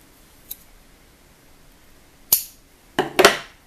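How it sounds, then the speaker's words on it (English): Scissors snip off excess yarn on a crocheted gnome wizard, giving a few sharp close clicks: one faint tick early, then a louder snip and a quick double snip near the end, with no talking. "you can trim the excess"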